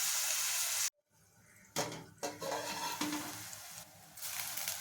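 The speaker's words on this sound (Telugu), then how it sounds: "మూత పెట్టుకుని బాగా వేపించుకోవాలి" Mutton curry fries in a covered pan, giving a bright sizzle that cuts out abruptly, then returns in stops and starts with scraping stirs and clatter, close and fairly quiet, with no voices.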